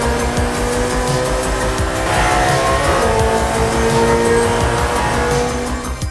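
A Ferrari SF90 hypercar in Forza Horizon 5, powered by a 4-litre hybrid V8 with three electric motors, drones at steady high revs while its tires squeal, loud and continuous with no talk.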